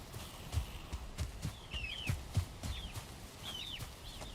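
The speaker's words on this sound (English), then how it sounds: "Chickens, what are you guys doing?" Chickens clucking in a video game set in the Ashlands, short chirpy calls repeating a few times over low thumping footsteps and background game noise.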